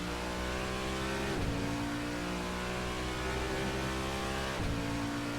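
Engine of a GT3 race car in the Assetto Corsa sim, revving hard and continuous at close range, with two quick gear-shift dips where the pitch drops and climbs again.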